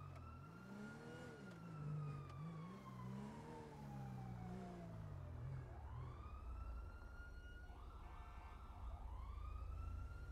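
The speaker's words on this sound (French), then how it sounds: "Encore des sirènes." Police sirens in GTA V, wailing and sweeping in pitch as a car engine revs underneath, a second siren pattern joining toward the end, fairly loud and continuous with no talk.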